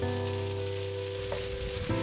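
Vegetables sizzle and fry in a hot wok with curry powder for Singapore noodles, a steady crackling hiss with a couple of stirring scrapes, close and alone without talk.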